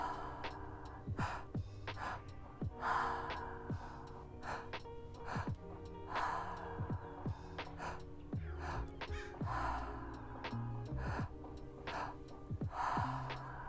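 Rhythmic guided breathwork, with sharp deep inhales and exhales repeating every second or so over soft background music, close and clear, and no talking.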